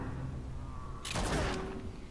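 A single close-range gunshot in the video game Darkest Dungeon, a sharp loud blast about halfway through that rings briefly over a low ambient background, with no talk.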